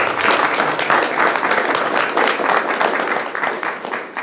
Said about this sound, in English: Certainly deserves a round of applause.